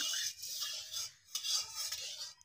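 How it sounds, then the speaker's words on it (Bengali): Cooking oil being stirred in a kadai for crab leg pakora, a soft scraping and rubbing of the utensil against the pan in a few short strokes, close and fairly quiet. "তেলটা একটু নাড়াচাড়া করে দিচ্ছি"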